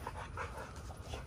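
An XL Pitbull pants in quick breathy bursts close by, with soft whimpering mixed in, fairly quiet and alone.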